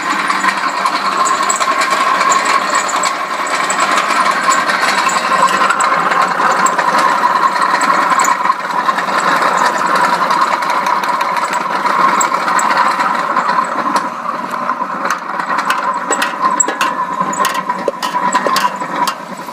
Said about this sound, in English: Then we'll get our machine started up and we'll start grinding the sauce.